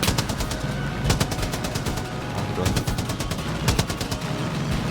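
Rapid automatic gunfire bursts in the video game Far Cry 5, loud repeated sharp cracks in clusters over continuous background game noise, with players talking alongside.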